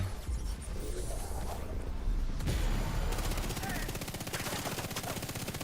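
Rapid SMG fire in The Division 2, sustained bursts of fast, loud automatic shots rattling in quick rhythm under a player's voice.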